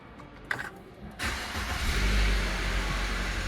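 A Fiat Egea with a 1.4 Fire engine, parked at a dealership, starts up: a few faint clicks, then the starter cranks and the engine catches and settles into a steady idle, close by.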